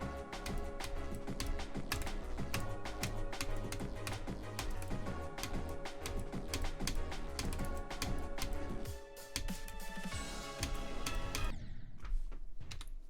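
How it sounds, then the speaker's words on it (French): Rapid, irregular clicking of keys on a Vulcan TKL Pro gaming keyboard during gameplay, dense and continuous under loud background music, with a short pause near the end. "Moi mon clavier c'est le Vulcan TKL Pro."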